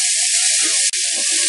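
Chickpeas tossed into hot oil flavored with coconut sizzle loudly and steadily for a Sri Lankan spiced chickpea dish, a close, continuous frying hiss with a brief break midway.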